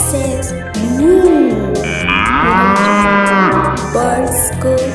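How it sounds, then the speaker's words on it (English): A cow lets out a long, drawn-out moo in the middle of a cheerful children's nursery-rhyme tune, the low bellow rising and sustaining loudly over the backing music before the melody continues. "Cow says, moo."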